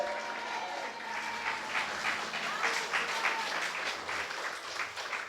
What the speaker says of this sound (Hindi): अगर विश्वास है तो ले लो, ताली बजाते हुए आमीन।